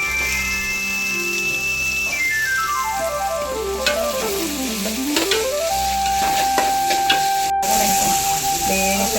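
Sliced onions dropped into hot oil with fenugreek, turmeric, green chilli, ginger and garlic for a tuna curry sizzle steadily and close, with occasional stirring clicks, while a sliding whistling tone rises and falls over the top.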